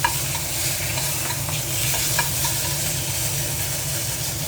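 Fish sizzling steadily as it fries in a pan, a continuous close crackling hiss with faint stirring clinks, no voices.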